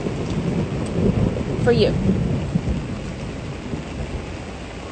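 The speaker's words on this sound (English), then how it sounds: "Oh, I love the rain." Steady rain falls outdoors with a low rumble of thunder building near the middle, a continuous broad wash of drops under brief speech.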